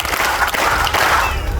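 An audience at a secondary school graduation ceremony claps together, a loud, crowded burst of hand-clapping with some crowd noise, close and continuous over the short stretch.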